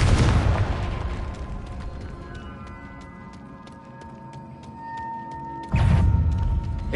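Loud blasts from the Confringo spell in the video game Hogwarts Legacy, one booming explosion at the start that rings out and decays, then a second heavy burst near the end.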